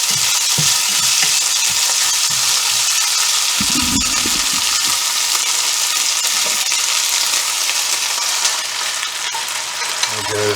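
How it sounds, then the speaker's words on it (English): Garlic frying in a hot pan gives a steady, close sizzle that runs throughout, with a few brief low knocks and stirring sounds early on and no talking. "So just fry off that garlic."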